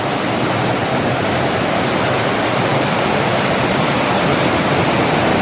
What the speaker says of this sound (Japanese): 風じゃねえや。 川の音。